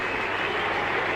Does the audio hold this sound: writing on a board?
no